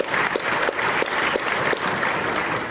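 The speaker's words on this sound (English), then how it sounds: "Ah, applause" A conference audience claps steadily, a dense patter of applause with a few rhythmic accents, close and lively.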